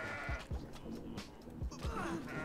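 Goats bleat in the video game Kenshi after a fight, several wavering cries overlapping in quick succession at moderate volume, with faint talking underneath.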